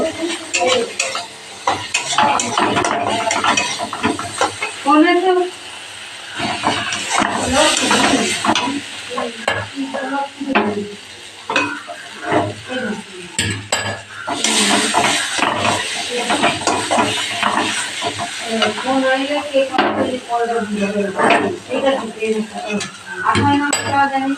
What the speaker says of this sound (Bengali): একটু ভালো করে মশলাটাকে কষিয়ে নেব।